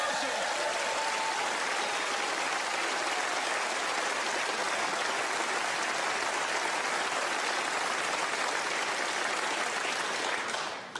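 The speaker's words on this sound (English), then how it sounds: "A round of applause for our runner-up." Sustained, dense applause from the snooker arena crowd at the 2017 English Open final, honouring the runner-up, filling the hall loudly and evenly for about ten seconds before cutting off.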